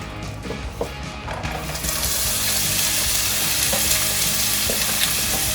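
Corn hits hot olive oil in a pan and bursts into loud, steady sizzling, with scattered sharp crackles and pops over the constant hiss.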